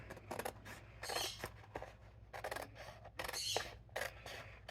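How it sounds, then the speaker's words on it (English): Small scissors snip through paper towels in a craft setting, giving a close, quiet series of crisp cutting and rustling sounds in an irregular rhythm, with no talking. "These scissors really are small. Cut nice though."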